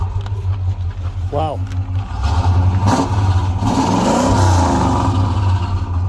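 A 1968 Pontiac GTO V8 cranks and fires up, settling into a smooth idle before throaty blips of the throttle, loud and close, with a person briefly exclaiming over it.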